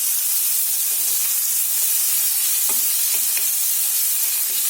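Vegetables for a vegetable soup sautéed in a pan, a constant bright hiss of frying with faint intermittent stirring scrapes beneath it, close and steady.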